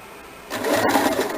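A sewing machine with a zipper foot stitches piping along the princess line on the back of a blouse, a near whirring run that starts up partway through and holds steady to the end.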